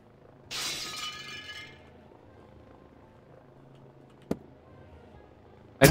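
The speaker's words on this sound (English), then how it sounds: "I just heard glass break" Glass shatters loudly in a cops-versus-robbers video game, a sharp crash with tinkling fragments trailing off over about a second, followed by a quiet stretch, a single thud and another sudden loud hit.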